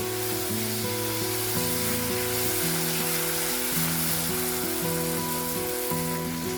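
Tomatoes sauté on a stovetop for onion chutney, with a loud, continuous sizzle and crackle filling the whole stretch while background music plays underneath.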